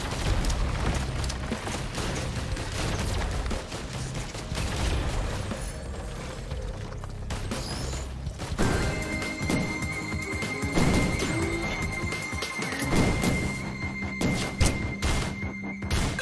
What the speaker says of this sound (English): Explosions don't pop as much, gunshots don't have that kinetic bang